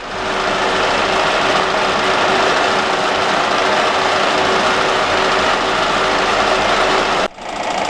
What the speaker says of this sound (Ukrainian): Ріжемо різьбу 24 на півтора.